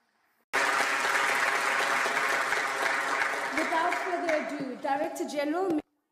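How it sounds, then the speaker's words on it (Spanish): An audience at an International Labour Organization social protection event breaks into loud, sustained applause that starts abruptly, with voices and cheers rising beneath it before it cuts off. "Por favor, un aplauso para ellos."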